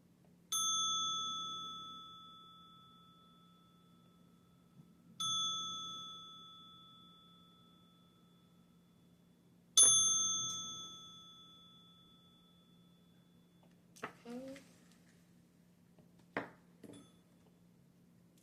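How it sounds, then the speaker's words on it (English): Sound bowl struck three times, each ring a clear sustained metallic tone that slowly fades over several seconds in a quiet room, followed by a few faint clicks and taps. "I'll be ringing that sound bowl"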